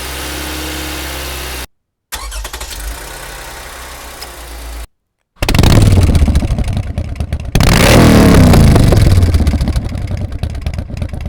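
A motorbike engine recording plays in short bursts separated by gaps. It idles first, then swells into louder, close revving with rising and falling pitch sweeps. No voices are heard.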